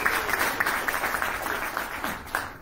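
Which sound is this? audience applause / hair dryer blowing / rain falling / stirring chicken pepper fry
audience applause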